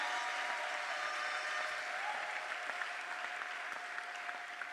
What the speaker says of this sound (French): Est-ce qu'on peut l'applaudir, s'il vous plaît, mesdames et messieurs